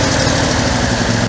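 A car engine idles steadily nearby, a loud continuous low rumble with even mechanical pulsing that holds without change and drops slightly at the very end, with no talking.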